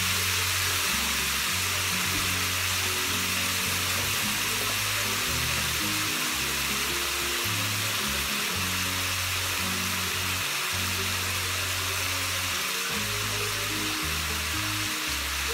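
Ground meat for Cajun tacos sizzles steadily in a hot pan, a loud, continuous close frying hiss with occasional scraping and stirring underneath, and no talk.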